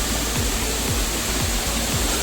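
Tenteinali waterfall in dense forest roars as a constant, loud, broadband rush of falling water, with no gaps and low rhythmic thumps under the steady wash.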